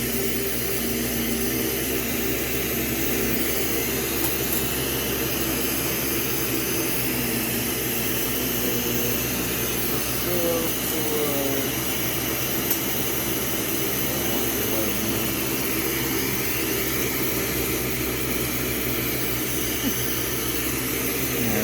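A torch flame roars steadily and loudly at close range, heating glass to form a marble, a constant broadband hiss and rumble with no pauses and no voices.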